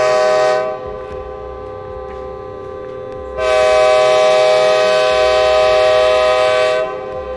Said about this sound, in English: The whistle pierced the air, so loud it hurt my ears.